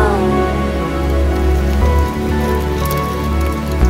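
Hail pounds a vehicle in a dense, steady patter that barely lets up, layered over sustained musical tones.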